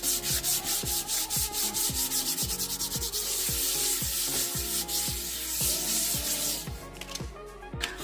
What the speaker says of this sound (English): I now have some 120 grit sandpaper and I'm just going to give this table a really quick scuff sand